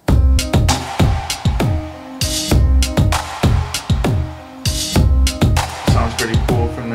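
An instrumental DJ track plays with a punchy, steady kick-driven beat, bright hi-hat and cymbal hits and a low bassline, loud and continuous with no voices over it.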